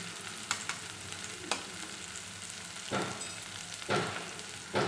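Spices for a potato puff filling stirred and fried in a pan: a low steady sizzle with a few distinct scraping strokes of a spoon at irregular intervals, close by.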